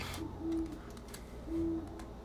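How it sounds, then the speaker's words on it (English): Owls hooting at night in the video game Terraria, two soft, evenly pitched hoots about a second apart, low in level beneath faint background game ambience and no speech. "I hear owls."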